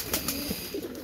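A flock of about forty pigeons coos at sunset, with several short overlapping coos close by over a steady background hum.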